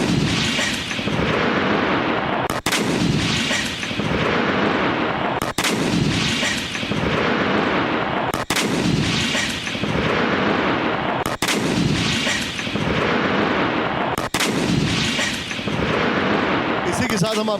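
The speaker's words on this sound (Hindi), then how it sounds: "एंटी टैंक ग्रेनेड लॉन्चर की ट्रेनिंग ले रहे हैं सैनिक।" An anti-tank grenade launcher fires repeatedly during soldiers' training, with a loud blast roughly every three seconds that rolls into a sustained roar, while a voice talks over it.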